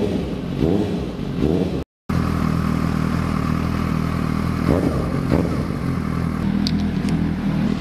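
A Suzuki GSR 750 motorcycle engine idles and is revved repeatedly to warm up, rising and settling, with a brief cutout early on and a few faint clicks.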